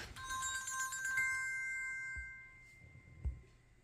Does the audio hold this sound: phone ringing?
yes